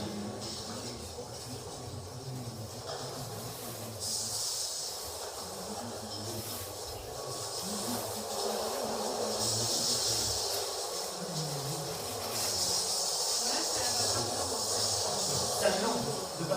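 A smoke machine at a smoke detector demonstration hisses out a mix of steam and smoke, a steady broadband hiss swelling in bursts, with people talking underneath.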